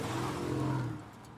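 A car engine drones steadily at full throttle, a sustained low hum held for about a second before easing off, close and fairly loud with no talk over it.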